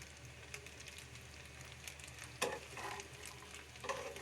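Chicken tossed with chopped carrot, coriander and spring onion for pasta, stirred in a pan with a faint steady sizzle and a few soft scrapes of the spoon near the end.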